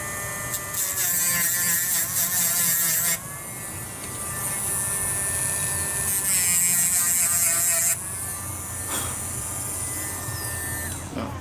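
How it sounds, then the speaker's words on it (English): Dremel rotary tool cutting a pin for a bicycle cassette, a high-pitched motor whine with grinding bursts that shift in pitch as the bit bites and eases off, close and steady. "it's a Dremel."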